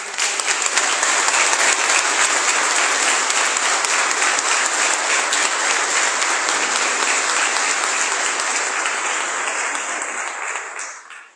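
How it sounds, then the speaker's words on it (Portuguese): Sustained applause from a church congregation at a parish celebration honoring a priest in Salesópolis, Brazil, a dense steady roar of many hands clapping that holds loud for about ten seconds before fading out at the end. "Vamos dar uma grande salva de palmas"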